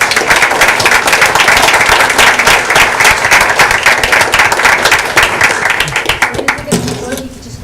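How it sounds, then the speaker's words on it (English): A school board meeting audience gives a round of applause for kindness partners in the school community, loud sustained clapping filling the room for most of the clip before tapering off at the end. "So please join me in giving all of these partners in kindness one more round of applause."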